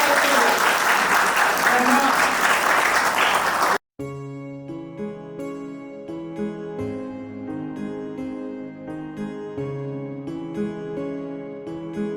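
A crowd claps loudly and steadily for about four seconds at a 75th birthday celebration for Daji, Dhanaji Phadtare, then the clapping cuts off and music takes over.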